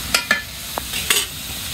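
Fish deep-frying in a pan of hot oil gives a close, steady sizzle, broken by a few quick clacks from stirring.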